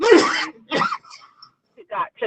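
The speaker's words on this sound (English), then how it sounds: "Bless you, whoever's sneezing." Someone sneezes loudly at the start during a commission meeting, followed by a brief vocal sound and short bursts of nearby noise against otherwise quiet room tone.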